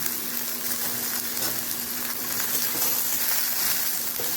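Okra and potatoes frying in a pan, giving a continuous, close, hissing sizzle with a steady bubbling crackle throughout and no voices.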